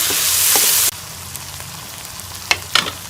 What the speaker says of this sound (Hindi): अब मैं इसमें फ्राई की हुई भिंडी शामिल कर दूँगी और इसे एक दफ़ा अच्छे तरीके से मिक्स कर लेंगे मसाले के साथ भिंडी को